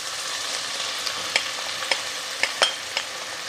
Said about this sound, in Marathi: आणि कांदा चांगला गोल्डन ब्राऊन रंग येईपर्यंत आपल्याला परतून घ्यायचा आहे